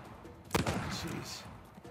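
A short burst of gunfire in the video game Uncharted 4: A Thief's End, one sharp crack followed by a rattling echo, mid-distance and moderately loud.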